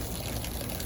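Water running and trickling steadily over aquarium filter sponges being rinsed for a 300-gallon turtle pond, a soft continuous splash heard close by with no talking.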